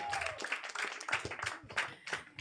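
Audience applause at a stand-up comedy show at the Cult Comedy Hall in Lviv: a crowd clapping steadily and continuously, fairly soft and somewhat distant.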